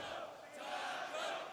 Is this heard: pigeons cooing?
no